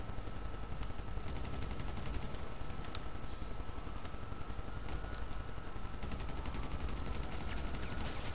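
Automatic rifle fire from Grand Theft Auto V crackles in rapid bursts, clustered early and again near the end, under a constant dense layer of game noise, with no talk.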